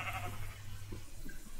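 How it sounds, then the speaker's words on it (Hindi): A goat bleats in Minecraft, one short nasal call standing alone over a low steady hum, fairly faint. "तेरी बकरी मेरी बकरी हो गई रे"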